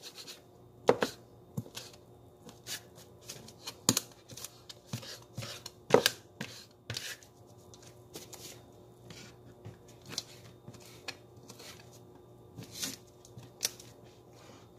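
A knife chops meat on a cutting surface, with sharp, irregular strikes spread through the clip that are close and moderately loud, and no voice over them.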